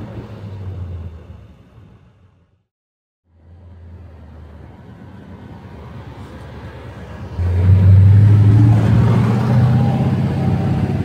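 A Nissan Patrol SUV engine revving off-road in loud bursts: a deep rumble that drops out briefly, returns, then surges into a heavier, harsher roar near the end.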